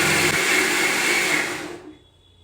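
A kitchen mixer grinder (mixie) runs loud and steady, grinding pieces in its jar, then spins down and falls quiet over the final half second.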